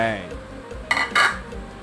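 A metal lid clanks down onto a pot of tom yum soup with a couple of sharp, close clatters, then settles.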